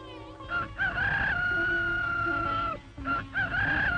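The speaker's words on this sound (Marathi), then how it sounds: "कोंबड्याचा आवाज ऐकून" A rooster crows twice, loud and close: a long, drawn-out cock-a-doodle-doo, then a second crow after a short pause.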